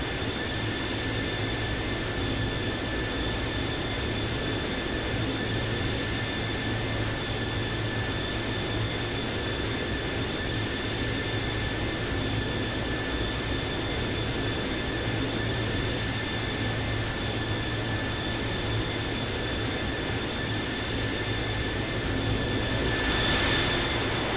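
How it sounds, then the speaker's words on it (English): A Boeing 737-800 auxiliary power unit running on the ground after landing in a flight simulator game, a steady unbroken jet-like whine with fixed high tones that holds evenly throughout, no voices. "Alright, we're on the ground, APU is running."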